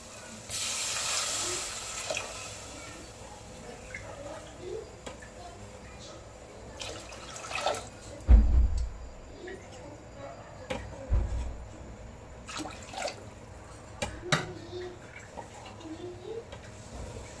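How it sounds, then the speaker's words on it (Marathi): Water pours in a short hissing rush near the start into a cooking pot for dal, followed by quiet clinks and knocks of the pot in a kitchen. "पाणी टाकायचं"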